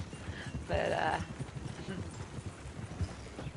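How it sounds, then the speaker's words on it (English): Hooves of a buckskin American Standardbred horse clip-clop steadily in Red Dead Online, a brighter burst of hoof and tack noise early on, then a softer continuing gait with faint background talk. "Here's my buckskin American Standardbred."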